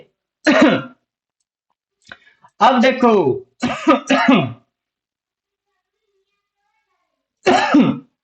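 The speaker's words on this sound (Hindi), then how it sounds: "खांसी हो रही, पानी पी लेते हैं।" Several harsh coughs and throat-clearing bursts, close to the microphone, spaced out with brief pauses and a short spoken phrase between them.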